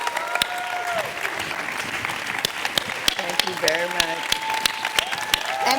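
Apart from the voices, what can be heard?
audience applause for Dr. Houston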